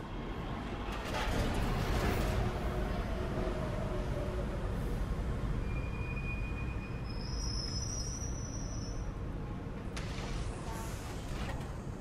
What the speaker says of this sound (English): The Broad Street bound Z train is now arriving.